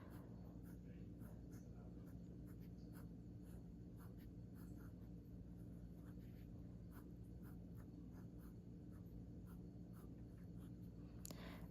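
Benu Talisman fountain pen with a fine nib scratching across paper, a faint close series of short rhythmic strokes over a low steady room hum.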